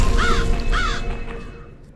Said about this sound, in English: And there's a crow.